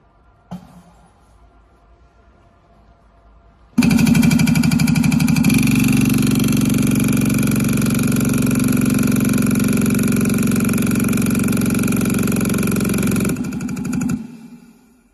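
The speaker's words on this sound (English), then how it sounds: "here's a video of the engine motoring in our lab" A variable compression ratio test engine motors steadily in a lab, a loud continuous drone that starts abruptly, holds an even pitch for about ten seconds, then cuts off.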